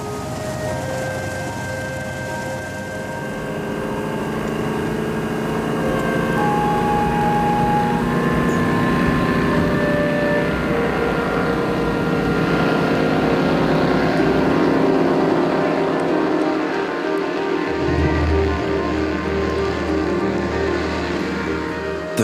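A Vickers Vimy biplane flies past with a droning piston-engine hum that swells, holds for a long stretch, then fades. A brief deeper rumble rises near the end, and no one talks.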